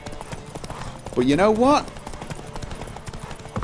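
Horse hooves gallop in The Witcher 3 video game, a steady rapid clip-clop running the whole time under someone talking, with a brief pitched, wavering sound midway.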